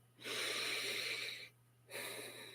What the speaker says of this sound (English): let's take one more deep, nourishing breath together